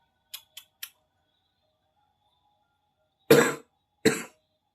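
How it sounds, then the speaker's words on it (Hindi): Three quick mechanical clicks, a pause of silence, then two sharp, close coughs in quick succession. "खांसी आई है और बटन दब गया।"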